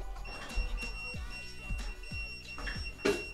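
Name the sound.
Xiaomi electric scooter anti-theft lock beeping loudly when moved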